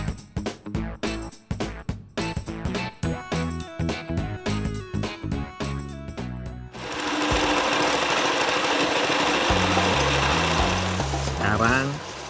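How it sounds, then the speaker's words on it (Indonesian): A simple coconut grating machine starts with a rhythmic, clattering knock, then switches to a loud, continuous grinding roar that holds steady until near the end. "Sekarang kelapa diparut menggunakan mesin sederhana ini."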